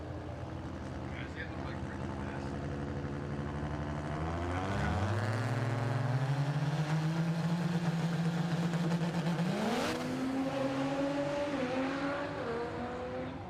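A no-time drag racing truck launches during qualifying at a Kentucky dragway, its engine note sweeping up through the gears while a second engine roars. The sound is loud and sustained, with people talking over it.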